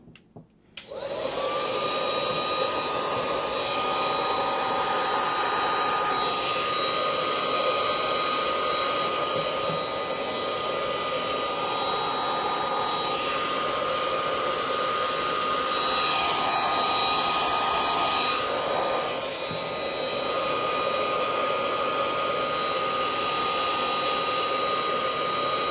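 A heat tool blowing hot air to heat seal the frayed ends of fabric flowers, a loud steady whooshing fan roar that starts abruptly and runs nearly unbroken, with slight changes in tone as it moves.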